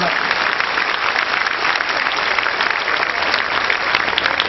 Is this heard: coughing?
no